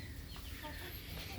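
A hen clucking near her nine chicks in a backyard, faint low clucks in a quiet outdoor setting, brief and soft.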